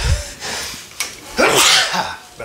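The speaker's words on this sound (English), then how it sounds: "about to sneeze." A single loud, close sneeze bursts out partway through, with a sharp intake of breath just before and a breathy release after, while someone strings a tennis racket indoors.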